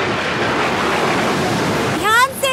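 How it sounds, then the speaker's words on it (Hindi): Strong stormy ocean waves in a cartoon roar as a continuous loud wash of surf. A voice begins speaking briefly near the end. "लहरें बहुत ज्यादा तेज हैं।"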